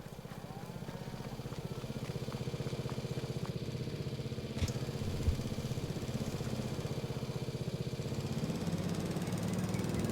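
A steady, low engine drone of a tractor mowing in the video game Farming Simulator 22, running continuously at even pitch, with a couple of faint clunks midway.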